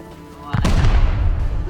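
After a quiet start with faint speech, a sudden loud blast erupts in the video game Rust and rumbles on with crackling debris, close and heavy.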